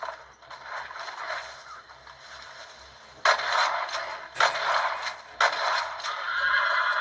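A horse whinnies in Red Dead Redemption, with a few hoof clops and mechanical clatter mixed into steady background noise; no one speaks.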